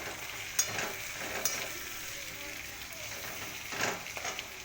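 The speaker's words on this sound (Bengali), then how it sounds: "এবার একটু টমেটো দেবো, টমেটোটা ভাজা ভাজা হয়ে যাবে" Ginger, garlic and tomato frying in a pan for chicken kosha, a soft steady sizzle with a few sharp spatula clicks and a burst of stirring near the end.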